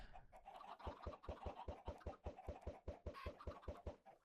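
Chickens cluck in a Minecraft-style game, a rapid regular series of about twenty short clucks at even rhythm, close and fairly quiet.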